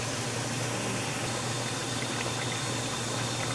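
Onions sizzle in hot oil while Scotch eggs are being made, a constant dense frying hiss with a low hum beneath, steady and fairly close without any talk.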